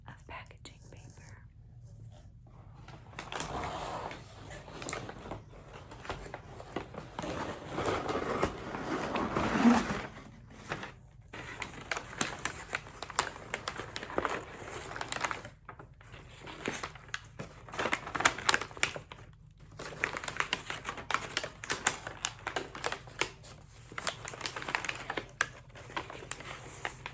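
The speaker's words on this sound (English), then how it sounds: "Three pieces of packaging paper." Packaging paper crinkles and rustles during an ASMR unboxing of an AK Press parcel, with soft, close handling bursts and a quiet whispering voice running over them.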